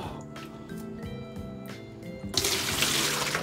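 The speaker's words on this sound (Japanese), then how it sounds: "一旦水を空にして種水をまず入れます" Water pouring into a medaka fish container after it has been emptied, a steady splashing rush that swells louder toward the end, with a faint trickle beforehand.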